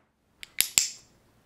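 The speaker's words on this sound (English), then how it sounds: "you're just getting the rabbit accustomed to the sound of the clicker and what it means" A handheld training clicker used at a rabbit's mealtime gives three sharp, close clicks in quick succession, with quiet before and after.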